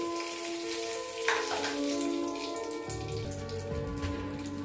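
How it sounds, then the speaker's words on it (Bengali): Two bay leaves drop into hot oil in a wok, giving a steady crackling sizzle with a brief sharp burst early on, while a low hum shifts partway through. "এরপর আমরা ওই তেলটার মধ্যে তেজপাতা ছাড়বো।"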